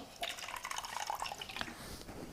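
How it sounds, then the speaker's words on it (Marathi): More water is poured from a container while homemade dishwashing liquid is being mixed, giving a close, bubbly, dripping pour with gurgling splashes that carries on steadily for a couple of seconds. "थोडस अजून घेते पाणी"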